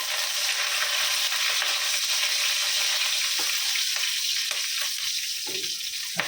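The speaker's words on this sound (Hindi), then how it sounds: "अरे करी पत्ते को अच्छे से तड़कने देंगे" Curry leaves crackle and sizzle in hot oil in a pan, a continuous loud frying hiss with occasional sharper pops and stirring sounds, without talk.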